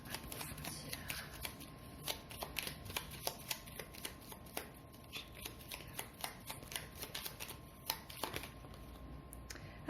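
Tarot cards being shuffled close by in a quiet room, with a steady stream of soft papery riffles and flicks broken by sharper card snaps, and no voices.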